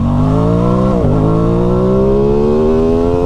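An Aprilia Tuono motorcycle in dynamic riding mode, heard close and loud. The engine note climbs in pitch as it accelerates, drops briefly at a gear change, then rises steadily again.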